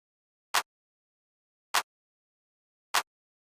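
A West Coast hip-hop clap sample hit three times alone, sharp bright snaps spaced evenly a little over a second apart.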